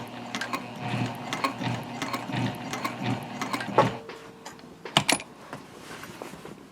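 A sewing machine stitches fabric for a zip top tote in a run of quick rhythmic mechanical clatter that stops partway, followed by a few sharp clicks and rattles close by.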